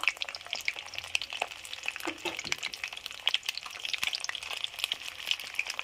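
Pointed gourd (potol) pieces fry in oil in a pan, a continuous crackling sizzle with sharp spitting pops and occasional clinks, fairly quiet and close.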